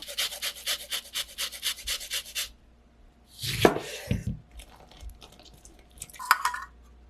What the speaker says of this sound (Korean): 소금 넣고 레몬 껍질 갈아 넣을게요.